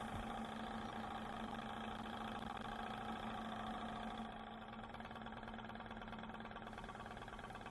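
A lab Stirling engine, heated by a wire at the hot end of its cylinder, hums steadily with a mechanical buzz while lifting a weight, droning evenly and alone throughout.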